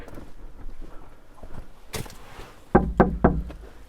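Knocks on an old wooden door at a remote mountain temple near a cliff path: a few sharp hollow raps close by, three firm knocks in quick succession near the end after an earlier single thud.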